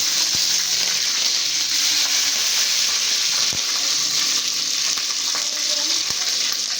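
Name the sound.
bay leaf and green chillies frying in oil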